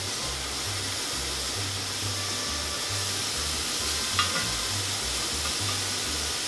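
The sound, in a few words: shrimp sizzling on the grill as they are turned over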